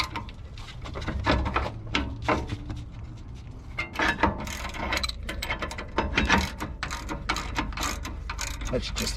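A ratchet works the brake caliper bracket bolts on a 2004 Dodge Ram 1500 with a 21mm socket, giving rapid, close clicking in repeated bursts with short pauses between strokes.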